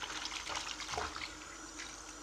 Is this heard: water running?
yes